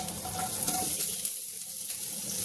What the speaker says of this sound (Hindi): अब देखिए लहसुन पक रहा है